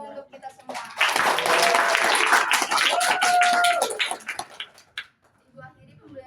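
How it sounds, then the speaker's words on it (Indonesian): A class breaks into clapping for about three seconds, fairly close, during a microteaching sociology lesson, with voices calling out over it before it dies down and speech resumes. "boleh tepuk tangan dulu untuk kita semua"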